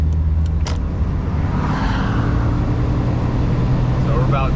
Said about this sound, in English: I'm gonna pull out in the traffic like I would normally and show you what the power looks like.